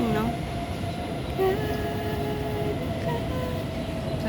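An MRT train passing nearby, a steady loud rumble with faint tonal whine and brief squeals, heard outdoors in the city without talk.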